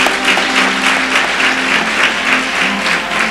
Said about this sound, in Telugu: నమ్మిన వారు చప్పట్లు కొట్టండి.